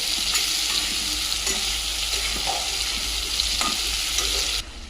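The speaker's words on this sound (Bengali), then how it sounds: "ফুলকপিটাকে ভালো করে লাল করে ভেজে নিতে হবে" Cauliflower florets fry in hot oil until they brown, sizzling loudly and evenly up close as a spatula scrapes through them at intervals, with no voices.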